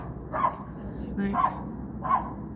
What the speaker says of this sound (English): Something's obviously making the neighbour's dog bark.